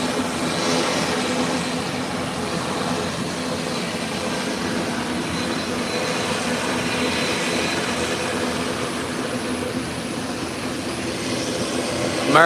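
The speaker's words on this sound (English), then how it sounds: "American Airlines 737 Boeing slowly taxiing down on the ramp to enter the taxiway" An American Airlines Boeing 737 taxiing slowly on an airport ramp: a steady, broad jet-engine roar and whine holding evenly throughout at moderate distance, with no voices.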